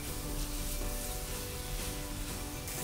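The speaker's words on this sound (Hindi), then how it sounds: "और अब इसे हम भूनेंगे 2 से 3 मिनट ऑन हाई फ्लेम" Soya nutri masala frying on high flame for street-style Amritsari nutri kulcha, a dense, continuous sizzle and crackle close by with light stirring scrapes, no talking.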